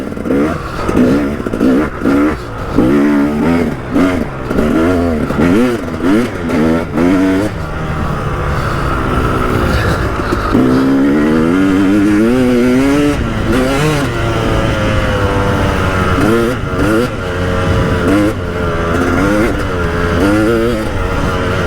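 A KTM 300 EXC two-stroke motorcycle fitted with an FMF silencer revs loudly and close by, with repeated sharp blips climbing and falling, then a longer sustained high rev, heard alone without talk.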